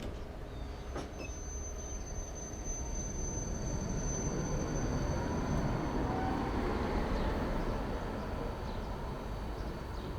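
A Berlin tram rolling past with a steady rumble of wheels on rail and high metallic squealing, continuous and fairly close throughout.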